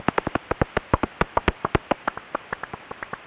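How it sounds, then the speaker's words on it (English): Common pipistrelle bat echolocation calls made audible: a quick, evenly spaced train of about twenty sharp clicks, steady at first and then softening slightly, with nothing else heard. "And this is the sound of a common pipistrelle."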